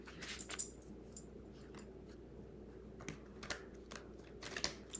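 Spirit oracle cards being shuffled by hand, a faint, close, uneven series of soft papery clicks and riffles in a quiet room.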